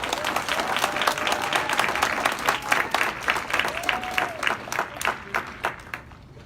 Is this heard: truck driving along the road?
no